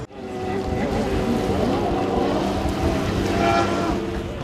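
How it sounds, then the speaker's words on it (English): Personal watercraft engines roar steadily at a U.S. Open watercross race on the Sparks Marina, with water rushing beneath a loud, continuous motor drone that holds without a break. "a U.S. Open watercross competition breaks the quiet with the roar of engines and the rush of water"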